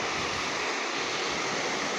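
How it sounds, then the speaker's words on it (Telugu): Surf washes onto a crystal-clear beach in Lakshadweep, a dense, continuous roar of breaking waves close by, with no voices. "ఇంత క్రిస్టల్ క్లియర్ వాటర్స్ బీచ్ ఇంత బ్యూటిఫుల్ ప్లేసు"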